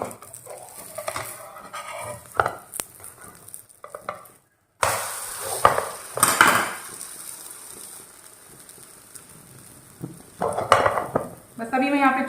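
An egg omelette with onion cooks in a pan on the stove, with soft sizzling and frying, scraping and a few clinks of a utensil against the pan as it is flipped, close by.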